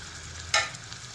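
Cabbage and capsicum hit a hot pan in one sudden sizzling burst that swells briefly and then fades back into a low steady frying hiss, close and moderately loud.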